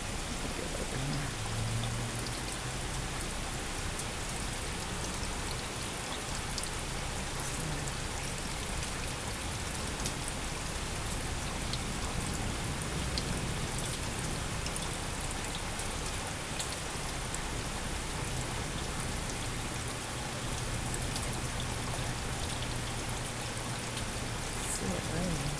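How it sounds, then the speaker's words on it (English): Steady summer rain falls outdoors, a constant, even hiss of drops on surfaces that holds at the same level throughout, close and enveloping with no breaks. "See it raining."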